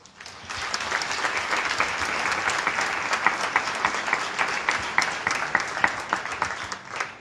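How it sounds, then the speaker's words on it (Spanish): An audience at a book presentation in memory of the Jesuit priest Pa'i Oliva breaks into sustained, full applause with sharp individual claps standing out, then begins to thin near the end. "Que se escuchen sus aplausos."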